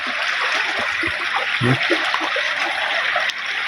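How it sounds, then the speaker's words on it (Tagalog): Rain falls and splashes by a riverside hut at night, a continuous watery spatter. Faint voices murmur beneath it. "palipasin natin yung ulan"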